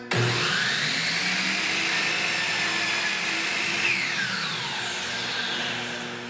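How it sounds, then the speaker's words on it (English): A power saw cuts a wooden bottom rail for a nightstand face frame, a loud steady whine that starts abruptly and runs throughout before beginning to wind down at the end. "Wait for the saw to come to a complete stop."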